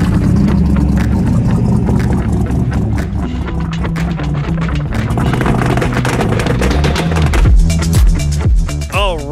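A Volvo 164 fitted with an LS V8 runs loud and close, its engine rumbling and revving unevenly with rising and falling pitch before a final sweep near the end.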